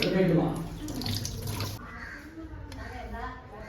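Tap water runs steadily while fish is washed at a kitchen sink, a continuous splashing wash heard under a person talking throughout.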